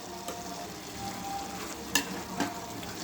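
Tomatoes cook in a pan for a Palnadu-style egg curry, giving a steady soft sizzle with a couple of brief scrapes or stirs, close and moderate, with no voices.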